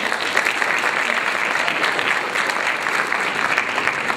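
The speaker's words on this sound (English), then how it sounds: "Y'all give a round of applause for those who came before me." Loud, dense applause from a comedy show audience, close and continuous, a thick wash of many hands clapping without letup.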